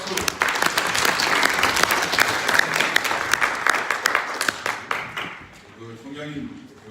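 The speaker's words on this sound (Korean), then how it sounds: "박수." An audience at a Korean veterans' forum applauds a former navy official, a burst of close, crisp clapping that builds, holds, then thins out and fades near the end.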